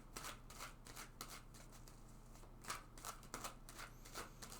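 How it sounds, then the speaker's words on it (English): A deck of tarot cards being shuffled over and over, giving a steady run of close, crisp riffling bursts with brief gaps between them, heard alone with no talking. "let's just shuffle this deck several more times."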